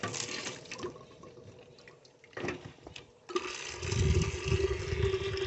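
Water running from a tap into a bucket for rooting plant cuttings, a steady splashing stream that swells louder and fuller in the second half, alone without talk.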